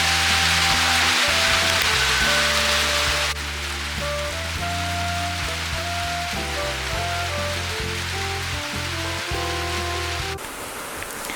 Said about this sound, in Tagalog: Medyo malakas yung ulan ngayon.